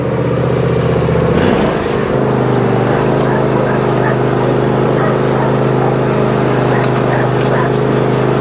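Junkyard John Deere zero-turn mower engine running close and loud, a brief rough rev settling into a steady droning idle-to-drive hum that continues throughout.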